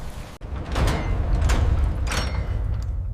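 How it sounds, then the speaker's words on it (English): A door slides and shuts on its own with a sharp opening click followed by several heavy rumbling thuds and scrapes, fairly loud and close, with no one speaking. "The door closed automatically, sealing the mystery within."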